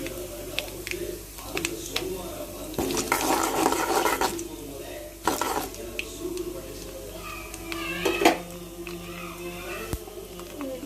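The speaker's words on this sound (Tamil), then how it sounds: "எண்ணெய் காஞ்சதும் கடுகு சீரகத்தை பொடி விட்டுக்கலாம்." Mustard seeds and cumin crackle in hot oil with scattered pops and stirring, moderately loud and close, while a voice talks at intervals and a bird coos faintly in the background.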